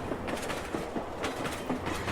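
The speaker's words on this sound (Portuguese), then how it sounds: "O trem começa a seguir o seu curso." A train rolls along a railway track with a steady rhythmic clickety-clack of wheels over rail joints, heard continuously as a dense rumbling wash without voices.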